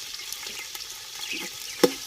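Two medium onions fry in hot oil for an aloo chicken curry, giving a soft, steady sizzle with light crackles and a sharp clatter near the end. No one speaks.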